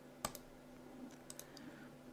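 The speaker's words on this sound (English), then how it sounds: "I'm going to right click on this one and unpin it" A computer mouse clicks while right-clicking a Windows 10 taskbar icon: one sharp, close click followed by a few fainter clicks over a quiet background.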